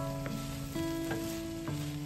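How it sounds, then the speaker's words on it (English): Cooked rice frying with vegetables in a pan for coconut fried rice, a constant close sizzle with a few stirring clanks spaced through a short stretch. "I'll fry this with the veggies"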